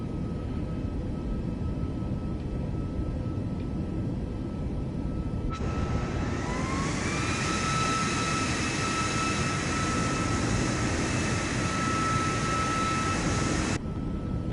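Jet engine spooling up in Microsoft Flight Simulator 2024, a steady engine roar joined by a rising whine that climbs and then holds a high tone for several seconds before cutting off abruptly near the end.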